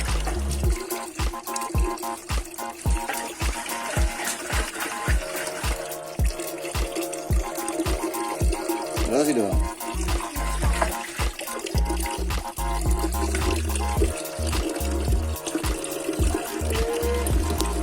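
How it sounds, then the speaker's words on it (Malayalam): Water sloshing and being shaken inside a removed motorcycle petrol tank during cleaning, a steady rhythmic swish and slosh repeating close up with a thin trickling wash throughout. "രണ്ടാമത് കുറച്ച് വെള്ളം കൂടി ഒഴിച്ചിട്ട് ഒന്നുകൂടി കുലുക്കി ക്ലീൻ ചെയ്യാണ്"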